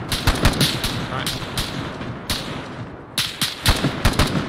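Heavy, close automatic gunfire in a video game, rattling bursts with short breaks between them, loud throughout.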